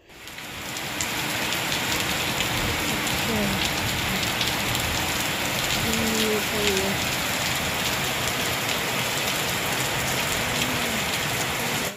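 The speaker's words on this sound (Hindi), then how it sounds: "देखिए बारिश शुरू हो गई" Rain starts falling at home and quickly builds into a steady, even hiss of drops on surfaces that lasts the whole time. Someone talks quietly underneath the rain.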